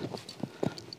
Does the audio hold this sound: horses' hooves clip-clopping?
yes